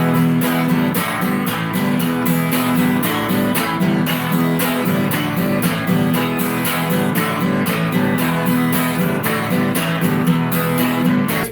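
Guitar strumming the chords of a rock song, a steady, loud rhythmic strum that keeps going for about eleven seconds with no talking.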